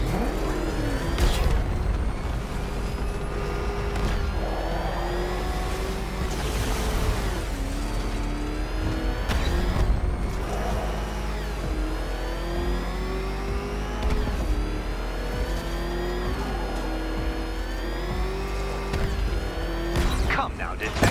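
A ramshackle car engine in the game Batman Arkham Knight revs and accelerates continuously, its pitch climbing and shifting under a steady mechanical whir, with brief in-game voices heard over it.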